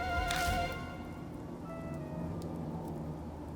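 Steady rain in the video game Spirit Hunter: Death Mark hisses in the background with a brief louder splash near the start, under faint tonal game ambience.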